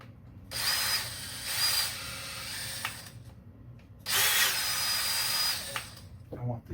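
A power drill whirs in two loud bursts while assembling a Nerf rifle kit, each lasting about a second and a half, with quieter mechanical handling noise between them.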